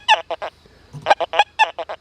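XP Deus 2 metal detector sweeping its coil over vertical nails and a nickel gives a rapid run of about nine short, buzzy, pitched tones in uneven clusters with brief gaps, close and clear, no talking.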